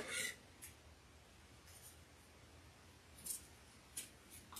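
Scissors snip away excess glue during a bee gnome craft project, several quiet crisp clicks spaced apart in an otherwise hushed room.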